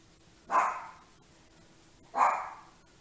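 A dog barks twice, about a second and a half apart, each bark short and sharp, heard from a short distance with quiet between.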